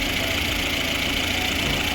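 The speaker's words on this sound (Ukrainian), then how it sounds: "Ось так наш двигун працює." A repaired car engine idling steadily after repair work, a continuous even rumble with a faint knocking texture, close and moderately loud with no voices over it.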